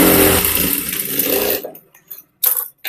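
A sewing machine runs fast and steady while stitching a blouse sleeve for 1.5 seconds, then stops, followed by a few short bursts and clicks as the fabric is handled.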